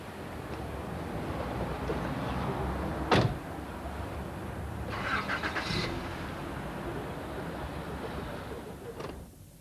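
A car starts up and pulls away on a drive toward Orly, a steady engine and road hum with a door-like thump and a couple of brief higher mechanical bursts, fairly quiet and with no talk.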